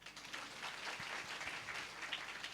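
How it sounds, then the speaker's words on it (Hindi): Congregation clapping during a Sunday church service, a brief, faint patter of hands in a hall, steady and unaccompanied by speech. "एक बार ताली बजाइए।"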